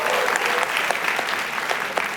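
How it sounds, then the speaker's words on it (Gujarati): Audience at a Gujarati comedy talk show applauds guests Anand Pandit and Vaishal Shah, a dense steady burst of clapping from a studio crowd filling the whole moment. "એમના માટે તાળીઓ થઈ જાય એવરીબડી"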